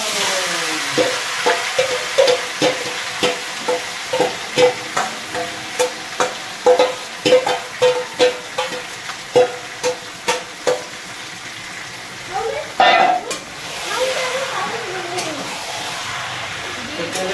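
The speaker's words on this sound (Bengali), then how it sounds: "মাংসটা এইভাবে দিয়ে দিলাম।" Meat fries with whole and dry spices in a pan, a steady sizzle marked by regular, loud stirring strokes near the mic, with a burst of heavier noise toward the end.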